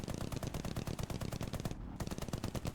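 Rapid aircraft machine-gun fire in War Thunder, dense bursts of close, loud shots with a brief pause partway before firing resumes.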